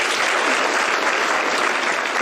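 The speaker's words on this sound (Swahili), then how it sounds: "But makofi tafadhali" Steady, dense applause from a crowd at a ground-breaking ceremony for the Mavoko affordable housing project in Machakos County, loud and continuous throughout with no pauses.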